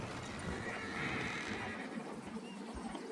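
A horse in the Red Dead Redemption 2 video game whinnies in a drawn-out, fairly close neigh over a steady ambient bed, with faint hoof clops underneath and no talk.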